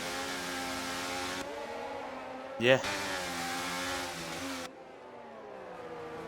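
Race car engine in a sim racing game revving and shifting through gears, with harmonic engine tones rising and falling, a brief sharp burst midway and a quieter stretch near the end, under a short spoken word.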